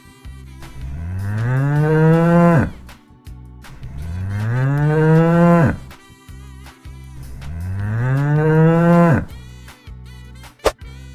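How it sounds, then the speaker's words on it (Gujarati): Three long, deep ox moos, each rising and swelling before cutting off, with short pauses between them and a sharp click near the end. "ચાલો બાળકો હવે આપણે બળદને જોઈએ અને તેનો અવાજ સાંભળીએ"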